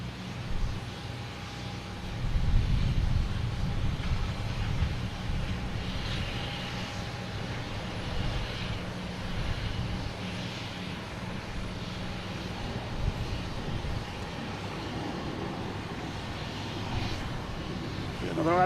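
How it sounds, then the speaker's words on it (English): An Alaska Airlines airliner at Boston Logan Airport rumbles in the distance, a steady low engine drone that swells early and then holds, with faint voices nearby. "Another Alaskan Airlines going to join us here."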